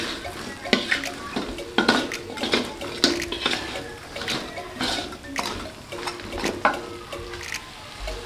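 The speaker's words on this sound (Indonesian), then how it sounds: "kita masukkan ikannya. Kita aduk hingga bumbunya merata ya" Tuna pieces being stirred into balado spice paste in a pan, with repeated scraping and clinking of a utensil against the pan amid soft sizzling, no talking.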